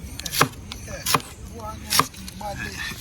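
Seasoning vegetables being chopped for Jamaican ackee and cheese patties, with three sharp, distinct knife strikes on a board, close by and fairly loud, plus lighter cutting clatter in between.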